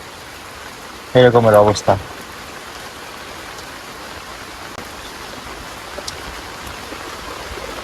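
Heavy monsoon rain falls on a village hut as a steady dense hiss throughout, with someone speaking briefly over it near the start.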